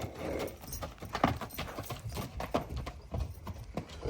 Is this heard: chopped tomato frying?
no